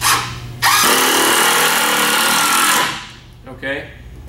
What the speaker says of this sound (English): you can see and hear that impact starting to help drive those in